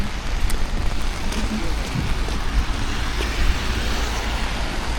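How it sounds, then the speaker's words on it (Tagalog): Heavy rain pours steadily around a car waiting at a red light on a road, a dense, loud hiss of drops with low traffic rumble underneath and no talk. "Lakas ng ulan"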